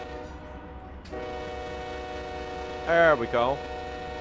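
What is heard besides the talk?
train horn honking in Run8 Train Simulator video game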